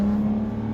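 Audi TT Mk2 engine held at a steady 4,500 RPM against the brake, a continuous strong hum with a slight dip partway through, loud and close with no voices.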